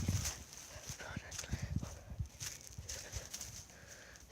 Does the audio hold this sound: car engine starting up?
no